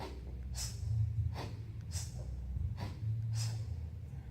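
Four sharp, forceful exhales during kettlebell swings, spaced about a second apart, breathy and close, each a quick hiss of air over a low steady hum.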